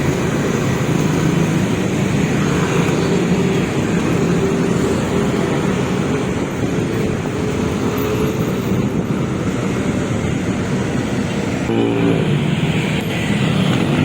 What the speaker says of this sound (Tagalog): Yun ang matindi ang traffic.